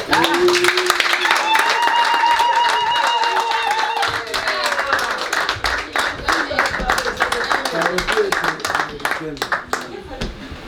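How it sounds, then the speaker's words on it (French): An audience at a Congolese presentation claps and cheers, with dense, sustained hand-clapping that stays loud and steady under a voice and tonal sounds throughout. "Acclamons tous ensemble"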